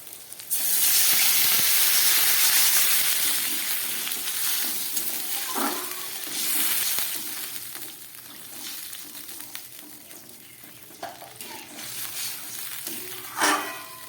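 Water poured into a pan of sizzling fried cumin, chili and eggplant for a Bengali hilsa fish curry, a loud steady hiss from the pan that slowly softens, with a few brief clinks and scrapes near the end.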